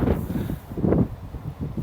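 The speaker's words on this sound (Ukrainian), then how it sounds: "але вітер дує, вологу видуває" Wind gusts roar steadily across the microphone over a farm field in early spring, with low rumbling buffets swelling and fading throughout, close and fairly loud, no voices.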